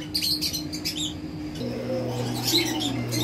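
Pigeons vocalizing nearby, soft low coos and a few chirps over a quiet background, with a steadier low cooing tone in the second half.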